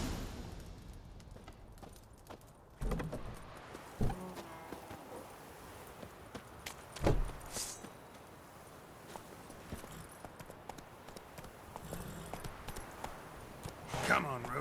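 Hooves of Roach, Geralt's horse in The Witcher 3, clip-clop at a walking pace beneath game dialogue and ambience, with a few sharper knocks along the way.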